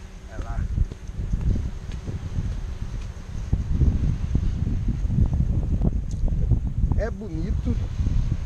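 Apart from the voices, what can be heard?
wind blowing on an Okinawa island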